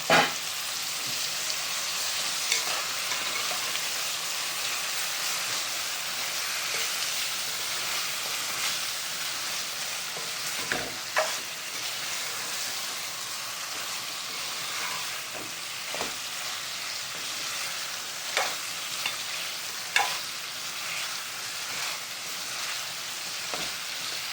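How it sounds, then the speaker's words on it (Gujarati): Dry bhumla fish curry cooks in masala in a pan, a steady sizzling hiss throughout with occasional soft clicks and scrapes of stirring, close and without talk. "એટલે થોડું મિક્સ કરી નાખીએ."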